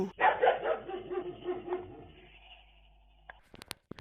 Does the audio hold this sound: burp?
no